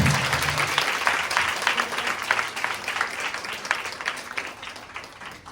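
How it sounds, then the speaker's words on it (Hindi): Many hands clap with audible individual claps in an enthusiastic burst of audience applause at a women's day seminar held by a prayer group, loud and close and gradually easing off. "तालियों के साथ"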